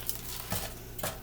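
A spoon stirs beer ketchup ingredients, seasoned onion with salt and black pepper, in a pot: a few soft scraping clinks in quick succession, quiet and close, with no talking.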